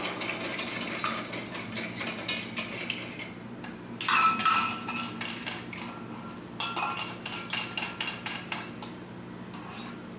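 A utensil mixes a starch mixture into boiling strawberry juice in a saucepan, making rapid rhythmic clinking and scraping against the metal pot in bursts with brief pauses, close and fairly loud, with no voices.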